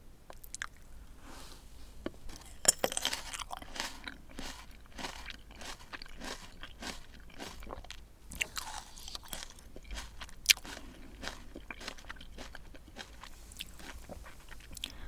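Sapphire grapes, long and eggplant-shaped, eaten up close: repeated crisp crunches and wet chewing, quiet and intimate, with a few sharper bites standing out.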